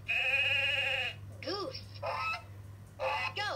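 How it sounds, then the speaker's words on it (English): Recorded sheep bleating played by a LeapFrog touch-and-learn talking animal book: a long wavering bleat followed by several shorter bleats, close and fairly loud over a faint electronic hum. "Sheep."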